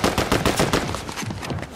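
Rapid automatic gunfire in the video game Fortnite during a sniper match: a dense, loud burst of quick repeated shots that slowly thins out, with no talking.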